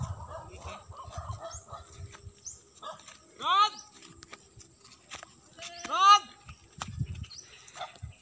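A dog barks twice at a rural hillside farm, each bark loud and drawn out a few seconds apart, while people chatter nearby and poultry can be heard.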